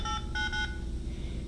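Phone keypad tones sound while a text message is typed, three short bursts of dialing beeps close up, then a quieter hum of the room with no talking.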